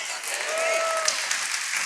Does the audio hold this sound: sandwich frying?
no